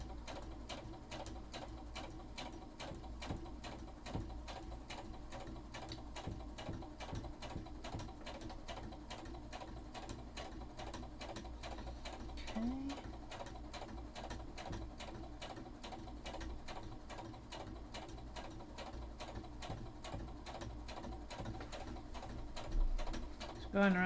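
A sewing machine stitches a seam on a cosplay shirt sleeve, a fast, steady mechanical patter running continuously at close range, slightly louder near the end.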